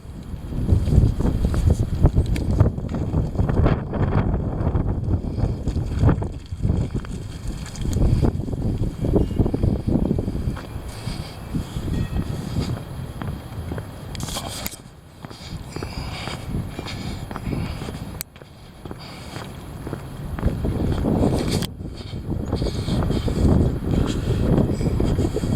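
Heavy wind buffets the microphone in rough, booming low gusts that swell and ease repeatedly, loud and close with brief lulls.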